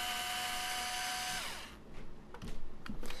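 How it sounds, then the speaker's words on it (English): A power screwdriver whines steadily as it backs out the pickup ring screws on a Les Paul-style guitar. The motor winds down, and then come a few light clicks and taps of the screws and parts, close and clear. "we're going to remove the pickup ring screws and remove the pickups"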